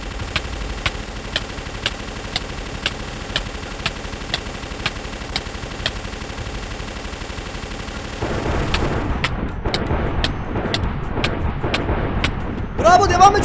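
Gunfire from a Minecraft battle gives a steady run of regular, evenly spaced shots, then a busier, louder stretch of rapid firing near the end.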